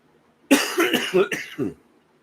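A close, loud fit of several rapid coughs in a row, starting after a brief silence and trailing off into quiet.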